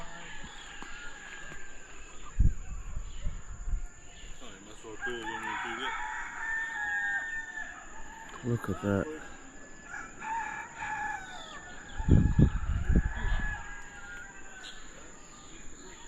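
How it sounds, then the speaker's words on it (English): Roosters crow repeatedly, some near and some farther off, over a constant high insect-like hum at an island cooking fire. Brief speech breaks in, and a few loud thumps and crackles punctuate the scene. "You can hear all the roosters going off in there."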